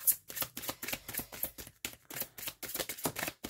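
Tarot cards being shuffled and drawn from a deck, a rapid run of crisp papery riffles and flicks, close and fairly quiet, with no talking.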